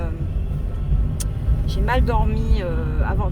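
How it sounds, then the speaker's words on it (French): A passing car rumbles low and steady at moderate distance while someone talks over it, her voice rising in pitch midway. "Oh punaise, une voiture."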